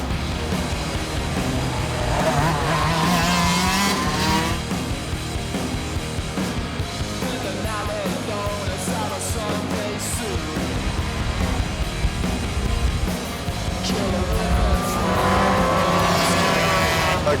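Shifter karts racing around a track, high-pitched engines screaming and rising and falling as they accelerate and brake through corners, with several passes close by and loud.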